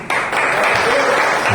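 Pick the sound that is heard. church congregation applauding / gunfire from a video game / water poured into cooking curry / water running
church congregation applauding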